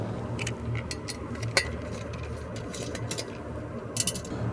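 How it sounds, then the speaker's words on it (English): Faint mechanical clicks and small metallic ticks as screws are fastened onto a compact antenna plate of MINI-LINK radio equipment, set against a steady low background hum. "Now we will rotate the plate 90 degrees counterclockwise and then fasten the screws."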